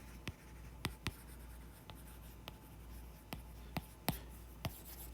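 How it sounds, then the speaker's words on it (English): Pen or pencil writing something down while games like Bombardment and Dingles are listed; crisp tapping strokes land about nine times at an uneven pace, close and clear over a faint steady room hum, with no talking. "So I'll just write it down."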